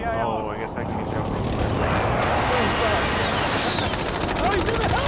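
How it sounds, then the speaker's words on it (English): A helicopter in a Call of Duty: Modern Warfare match: a continuous engine and rotor roar fills the scene, loud and close, mixed with gunfire bursts and other game effects, while a player talks over it. "Did that guy take the helicopter?"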